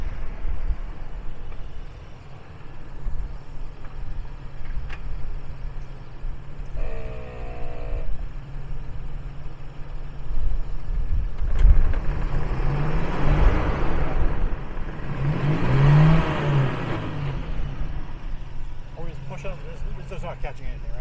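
A Toyota Tacoma stuck high-centered on recovery boards on a dirt trail, its engine droning and surging in louder revving pushes, with people talking over it throughout.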